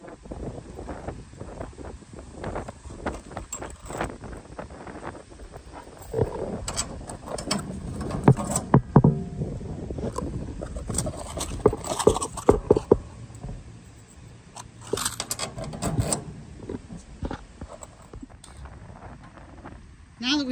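Bolts fitted with lock washers being pushed through drilled holes in a 16 ft PJ utility trailer, giving scattered metallic clinks, rattles and ratchet-like clicks over wind noise, busier in the middle stretch.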